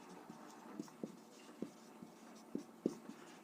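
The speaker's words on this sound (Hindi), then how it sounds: "तो हम लोग लिखेंगे यहाँ पे" Pen or pencil writing on paper for a Class 10 geometry lesson, a series of soft scratchy strokes in an irregular rhythm, close and fairly quiet, with no talking.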